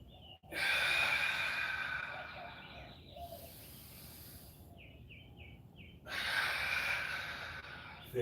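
Heavy, forceful breaths during an at-home workout class: two long, loud exhales a few seconds apart, with quieter breathing between them.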